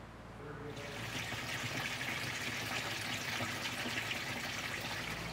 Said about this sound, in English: and then you can start filling your machine.